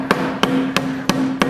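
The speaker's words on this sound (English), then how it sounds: "I actually started with the big Bash unbeatable hammer" Five evenly spaced, sharp metallic hammer taps on a part of a 1968 Norton motorcycle, each strike ringing briefly with a steady tone underneath, close and loud.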